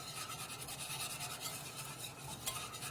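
A whisk beating hollandaise sauce fast in a pan over low heat, a quiet, continuous scraping and swishing with a quick, even rhythm.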